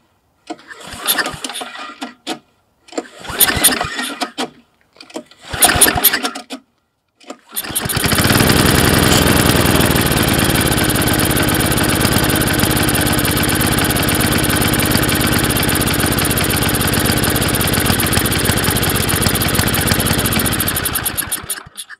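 A snowblower engine fitted with a new carburetor, three short bursts of pull-start cranking before it catches and settles into a steady, loud idle that runs on alone.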